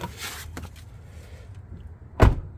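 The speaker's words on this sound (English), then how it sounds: "Close your door." A Toyota Prius Prime door shuts with one sharp, solid thump close by, after a few seconds of faint handling noise and shuffling.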